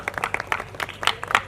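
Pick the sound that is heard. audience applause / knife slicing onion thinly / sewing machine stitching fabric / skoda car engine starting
audience applause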